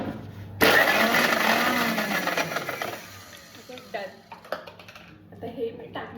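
A kitchen mixer grinder whirs loudly as it chops fresh coriander for potato bhaji batter, a dense steady roar that runs for about three seconds, then fades into scattered clinks and handling noises.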